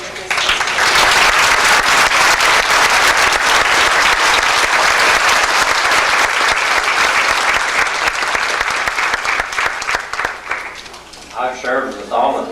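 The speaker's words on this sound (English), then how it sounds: "I think we should all applaud these former board members and show them how warmly we appreciate the service that they've given to this institution." A graduation audience gives former board members sustained, loud applause from many hands, filling a hall steadily for about ten seconds before tapering off as a voice begins speaking.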